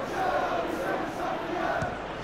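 Stadium crowd in the football video game PES 2021 roars and chants in a dense, sustained wall of voices during a Newcastle vs Everton match, broad and loud throughout with no break.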